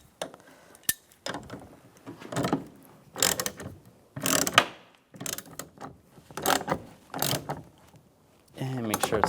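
A hand ratchet tightens the power window motor and regulator bolts inside a 2002-2008 Dodge Ram 1500 door, giving close, rapid clicking bursts separated by short pauses.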